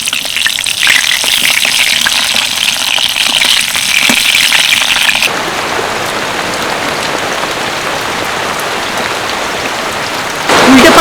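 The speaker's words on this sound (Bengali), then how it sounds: "গরম তেলের মধ্যে কেটে রাখা বেগুনগুলোকে হালকা ভেজে নেব" Eggplant slices frying in hot mustard oil, a loud close crackling sizzle that drops to a softer steady hiss midway, then swells again briefly at the end, with no talk.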